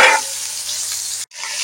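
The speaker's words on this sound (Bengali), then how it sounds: "কড়ায় দিয়ে দিচ্ছি তেল, আর দিয়ে দেব আলু আর বেগুন।" Oil sizzling in a kadai with potatoes and eggplant dropped in, a bright steady frying hiss that stays loud for over a second, cuts out briefly, then resumes.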